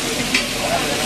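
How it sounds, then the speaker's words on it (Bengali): Hilsa fish frying in oil at a riverside eatery at Mawa Ghat, a steady dense sizzle that stays even and close throughout, with a brief faint clink midway and no talk over it. "আমাদের মাছ এখানে ভাজা হচ্ছে"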